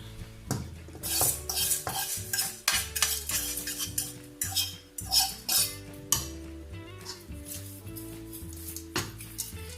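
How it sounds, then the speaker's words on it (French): Fried rice with vermicelli being stirred in a pot, a spoon scraping and clinking against the metal in repeated uneven strokes, fairly close and clear, with no one talking. "Maintenant, j'ajoute mes vermicelles"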